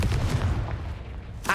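A Confringo blasting spell from Hogwarts Legacy lands as a deep, rumbling boom, followed by a short bright burst at the end of a brief stretch of noisy combat.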